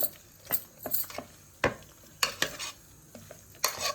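A spoon stirs gongura mixed with chilli powder and salt in a pot, giving several sharp scraping clinks and knocks against the metal amid a light sizzle, close and unaccompanied by talk.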